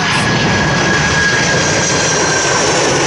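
Loud, steady roar of jet airliner engines at Toronto Pearson airport with a high whine on top, continuous and close, with no voices.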